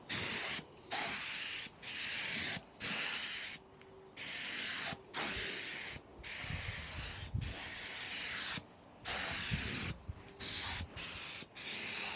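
A small spray gun lays lacquer paint onto a 1972 Cimatti Mini Chic, with loud, steady hissing bursts of spray broken by short pauses in a repeating stop-start rhythm.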